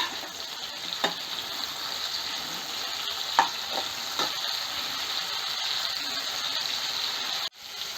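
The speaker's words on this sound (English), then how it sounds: "Once the oil heats up, add the marinated brinjal. Now you can increase the flame to fry the brinjal." Marinated baby eggplant (brinjal) frying in hot oil over a raised flame, a steady close sizzle with a few sharp pops and stirring clicks, with no voices.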